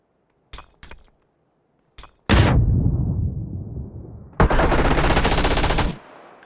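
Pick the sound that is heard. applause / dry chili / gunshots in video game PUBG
gunshots in video game PUBG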